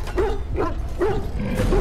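Dogs in the Dragon Age: Origins video game give repeated short barks and whimpers, three or four rhythmic yips close up over low background game noise.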